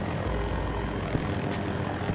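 A video game helicopter drones steadily with rapid rotor thumping, a continuous loud engine wash that stays close and unbroken.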